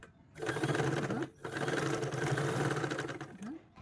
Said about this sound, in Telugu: ఈ రెండింటిని మంచిగా ఇట్లా ఈక్వల్గా పెట్టేసి స్టిచ్ వేసుకోవాలి